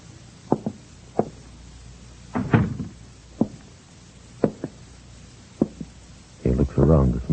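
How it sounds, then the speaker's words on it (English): Radio drama sound effects of a man knocking at an apartment door, then trying the handle and entering, heard as sharp separate knocks and clicks spaced across the scene, ending in a louder rustling, scraping burst. "He knocks. Receiving no answer, he tries the door, finds it open, and enters."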